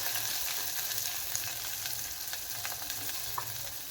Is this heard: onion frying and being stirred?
yes